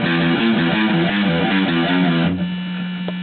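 A palm-muted electric guitar chugs through a song's intro riff, dense and steady, then settles into a sustained low ringing note; close, with no talk.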